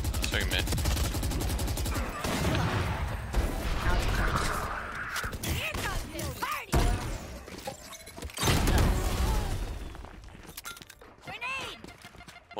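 Rapid automatic gunfire sprayed in the tactical shooter Valorant during a ranked match, dense bursts of shots with game effects, mixed under excited player voice chat and callouts.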